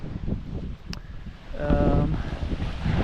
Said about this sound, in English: There is though a bit of a wind